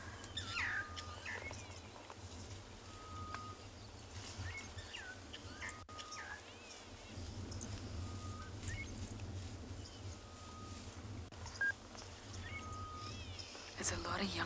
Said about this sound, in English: I can't see the bush shrike though. I can only hear it.